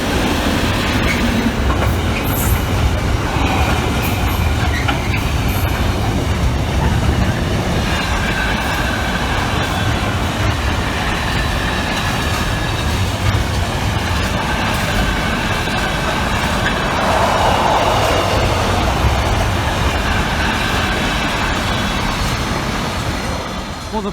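A Freightliner freight train passes a level crossing at Saxilby, a loud, sustained rumble of wagons with clickety-clack wheel noise lasting the whole stretch.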